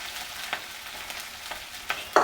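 Chopped onion frying in a pan with cumin seeds and green chillies, a close, steady sizzle broken by a few short stirring scrapes and a louder crackle at the end.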